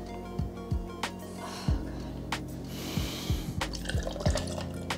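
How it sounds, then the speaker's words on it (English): Thick teriyaki sauce glugs out of a bottle into a shot glass in a quiet, close series of irregular drips and gulping plops spread over several seconds. "No one ever expected to pour this much teriyaki sauce in anything,"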